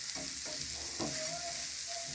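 Butter sizzling on a minced-meat spring dosa as a dosa ladle spreads it across the hot pan: a constant close frying crackle with light scraping strokes over it.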